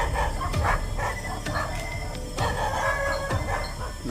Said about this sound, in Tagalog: dahil sa ingay ng mga aso